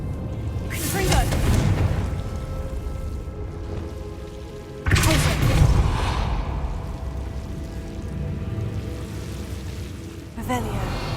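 Blasting spell explosions from the Hogwarts Legacy video game, with two loud booming blasts a few seconds apart and a brief third burst at the end, over rumbling game ambience.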